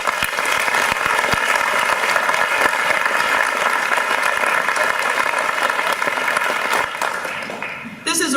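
At an awards night, an audience gives sustained applause to thank the sponsors and honorees, a full, even roar of many hands that holds steady and then thins out near the end.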